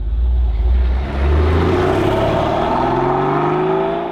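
A Porsche 911 993's air-cooled flat-six engine revs hard and steadily, its loud, rising drone holding close for several seconds with a brief dip near the start.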